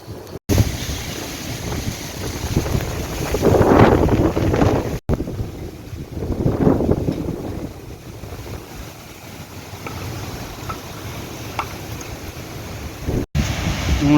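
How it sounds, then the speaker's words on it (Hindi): Strong gusting wind in rainy weather roars across the microphone in surging swells, loudest around the early and middle seconds, then settling into a steadier rushing background with brief dropouts. "आंधी भी तेज़ होनी जानी है"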